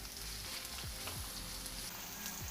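Chopped onions sizzle in coconut oil in a pan, a soft, steady frying hiss with occasional small crackles and pops, heard close and alone.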